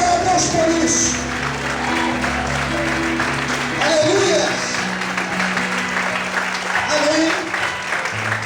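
Church congregation applauding and cheering in praise during an evening service, a steady wash of clapping under shouted exclamations and background music.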